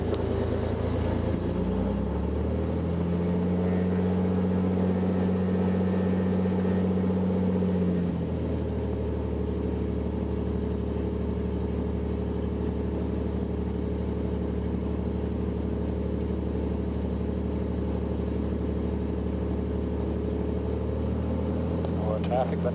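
A Beechcraft Bonanza's piston engine drones loud and steady at close range, holding a constant pitch with a higher tone rising briefly early on, then settling into an even roar.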